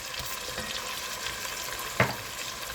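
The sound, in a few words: garlic sautéing in a pot for chicken stew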